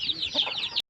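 Chickens cluck in a quick, close burst of short, bright calls, moderately loud and lasting about a second.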